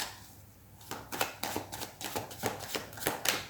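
Tarot cards shuffled close up in a quiet room, a soft riffling of the deck broken into a rapid run of about a dozen crisp slaps and flutters, with no voices.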